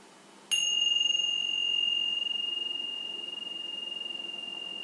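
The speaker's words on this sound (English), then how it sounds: "I'm going to ring the chimes to start off with." Meditation chimes struck once, giving a bright, clear ring that sustains and slowly fades over several seconds against a quiet hiss.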